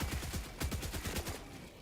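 Rapid full-auto gunfire rattles in the Helldivers 2 video game, a steady burst of closely spaced shots lasting nearly two seconds, moderately quiet and without speech.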